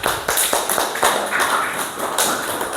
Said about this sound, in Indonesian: Oke, beri tepuk tangan untuk kelompok 3.